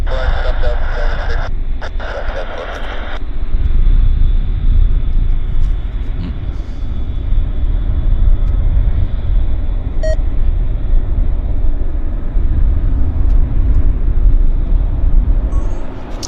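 A jet aircraft taxis at Vancouver airport, a steady loud engine rumble and whine filling the scene, with radio chatter and a voice talking over it.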